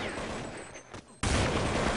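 Gunfire rattles in a shooter video game during a TECHLABS Cup 2012 esports match: scattered shots, a brief lull, then a loud, dense burst of rapid fire.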